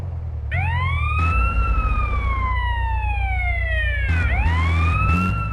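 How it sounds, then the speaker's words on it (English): Police car siren sounding from a car hitched to a tow truck in the GTA video game, a loud wailing sweep that rises and slowly falls, restarting near the end over steady engine rumble. "However, when we attach a police car to a tow truck, we will hear the sirens again."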